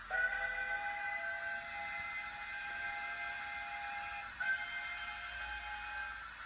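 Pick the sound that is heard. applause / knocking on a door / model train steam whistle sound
model train steam whistle sound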